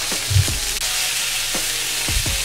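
Chicken breast frying in a pan for chicken sisig gives a steady close sizzle, with a few soft low knocks and stirring taps running through it.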